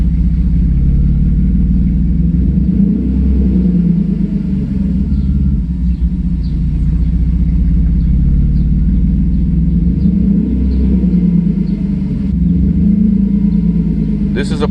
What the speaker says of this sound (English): As you can see, the RPM fluctuation.